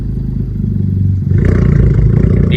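A Honda Civic Type R idling loudly and steadily at close range, with a brief dip and a clunk as it is shifted into first gear, after which the idle carries on slightly fuller.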